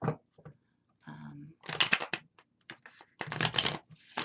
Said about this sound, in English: Let me shuffle a bit more.